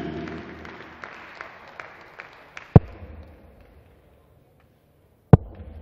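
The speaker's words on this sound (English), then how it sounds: "140 greeted by a ripple of applause." Modest ripple of applause from the crowd at the 2017 Gibraltar Darts Trophy after a score of 140, thin and scattered, fading within a few seconds into near silence broken by two sharp clicks.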